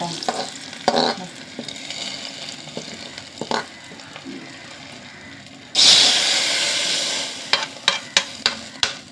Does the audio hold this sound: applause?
no